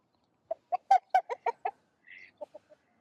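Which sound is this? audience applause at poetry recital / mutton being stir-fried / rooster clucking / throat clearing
rooster clucking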